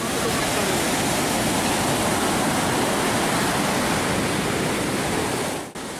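High sea waves up to 2.6 meters surge against the southern shore of Payangan Ambulu beach, crashing into a row of beachside stalls: a loud, steady roar of surf with no letup, cutting off briefly at the very end.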